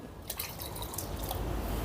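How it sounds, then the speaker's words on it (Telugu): Water pouring and splashing steadily into a cooking pot of moong dal, a continuous liquid gurgle close by with small drips throughout. "ఇప్పుడు కొద్దిగా వాటర్ యాడ్ చేసుకుందాం."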